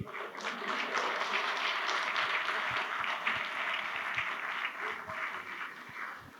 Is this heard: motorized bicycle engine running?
no